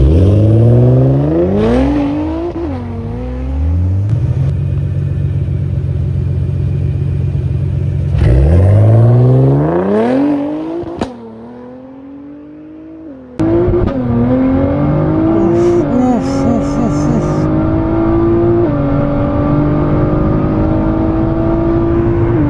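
A Nissan GT-R R35 set to sport mode accelerates hard, its engine note climbing loudly through several gears with rising pitch sweeps, a brief quieter lift mid-run, then pulling strongly again close and alone.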